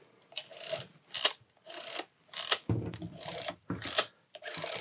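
Pentax 6x7 medium-format camera's film advance crank wound repeatedly, giving about eight distinct ratcheting bursts in a steady rhythm, close and clear with no talking.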